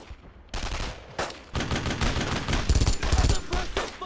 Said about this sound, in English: No one stops firing!